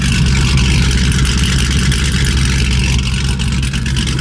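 A Chevy Silverado pickup idles with an aftermarket cam, giving a loud, close, lumpy rumble with an uneven choppy pulse that continues throughout.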